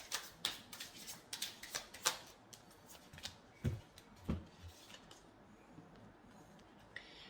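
Tarot cards shuffled by hand in a quiet room: a run of crisp riffling flicks and soft slaps that come in irregular bursts, close and fairly quiet, with no talk.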